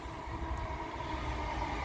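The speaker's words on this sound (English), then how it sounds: "Oh, passing train." A train rolls past at a distance near a station beside an allotment garden, a low steady rumble with faint rail clatter throughout.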